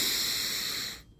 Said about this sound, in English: First, take a deep inhale,